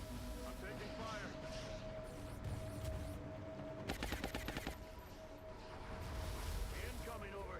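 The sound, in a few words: enemy gunfire in the XCOM Long War video game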